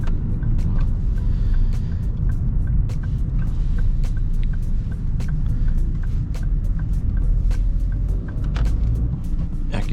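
A 2009 Ford Focus 1.8 Duratec flexifuel, 125 hp, pulling away harder from a start, its engine and tyre rumble steady and close for the whole stretch, with a few faint clicks from the cabin and no one speaking.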